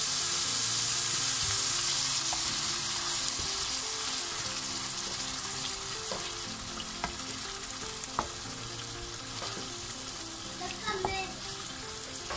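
Minced meat and tomato passata cook in a pan for crêpe cannelloni filling, giving a steady close sizzle with occasional stirring scrapes throughout.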